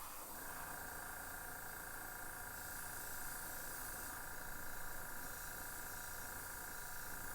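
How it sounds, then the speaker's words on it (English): An airbrush sprays base coat paint onto a fishing lure, giving a steady, even hiss of air and paint that runs unbroken and close by throughout, with no speech. "I'm not too concerned about the overspray."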